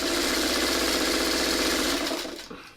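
A sewing machine runs steadily, stitching small quilt squares together, loud and continuous before slowing and stopping near the end.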